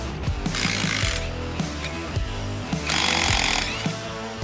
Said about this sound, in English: We're gonna go ahead and start removing our bolts right now